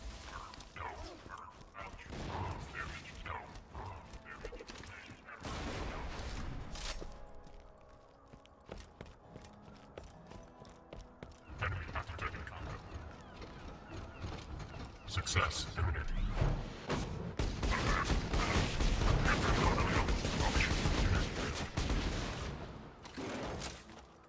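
Bursts of video game gunfire in Borderlands aimed at necrophages, played as Axton, come in clusters alongside footstep-like thuds, while someone talks over much of the action.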